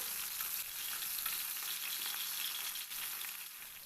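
Prawns frying crisp in hot oil until golden brown, a dense, steady hiss and crackle of sizzling bubbles with small pops, close and continuous, easing slightly near the end.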